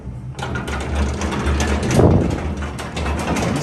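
Doors of a 1950 vintage Otis traction freight elevator, still original, slide on their tracks in College Station, Texas, giving a loud, steady mechanical rumble and rattle with clanking throughout.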